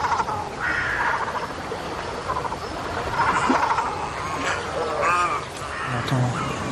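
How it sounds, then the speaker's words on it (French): A crow caws repeatedly beside the calm, preserved banks of the Loire river, harsh calls rising over a steady rushing outdoor background, with other faint bird sounds mixed in. "On entend une corneille qui domine."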